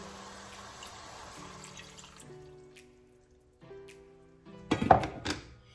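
Water is poured into a cooking pot holding cooked meat, pasta and marinara, a short splashing gush near the end after quiet kitchen clinks and a soft thunk.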